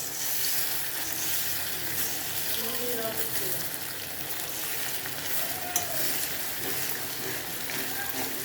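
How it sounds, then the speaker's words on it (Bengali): Three eggs sizzle and fry steadily in a pan for a home-style pasta dish with potato and egg, a continuous crackling hiss with occasional faint clinks and no talking. "তিনখানা ডিম দিয়েছি, ডিমটা ভাজা হচ্ছে"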